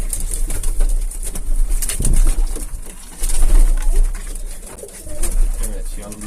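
Birds in a loft, moulting and somewhat listless, make repeated close, soft cooing calls with occasional rustles, while voices murmur faintly in the background.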